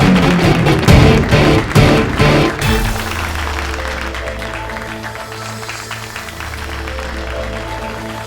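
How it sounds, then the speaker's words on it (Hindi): Studio audience applause greeting a contestant onstage during a comedy TV show, a loud burst of clapping for the first few seconds that quickly fades under music. "इनके मुकाबले के लिए जोरदार तालियों से स्वागत करें।"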